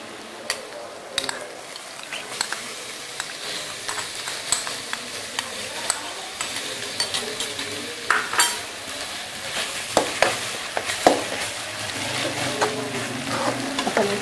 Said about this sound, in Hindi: अच्छे से भून लेंगे अदरक लहसुन के पेस्ट को प्याजों के साथ